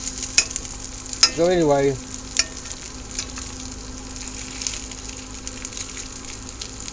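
Rice sizzling and being stirred in a large cast iron skillet on a Coleman stove in a greenhouse, a soft steady fry with a brief scraping stir and a few words spoken.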